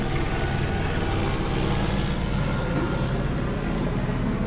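A chopper flies overhead, its continuous rumbling drone loud and unbroken, with no talking in the mix.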